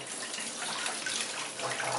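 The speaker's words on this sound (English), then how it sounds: "So I'm going to rinse out the extra gunk on here" Tap water streams steadily onto a cutting board being rinsed of ginger scraps in a kitchen sink, a continuous close hiss of running water with no talk.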